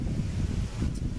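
Strong outdoor wind buffets the microphone in heavy, low rumbling gusts that roll continuously through the brief moment, with no voices.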